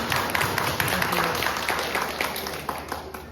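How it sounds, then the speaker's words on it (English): Audience applause at a celebration of the Dalai Lama's 90th birthday held by a regional Tibetan association, dense and steady clapping from a large room that slowly fades, with almost no talk. "Feel free to applaud"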